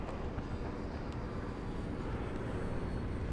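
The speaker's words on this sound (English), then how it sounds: "Another plane?" An airplane passes overhead in the video game Dying Light, heard as a steady broad roar that holds evenly throughout, moderately loud and without talk.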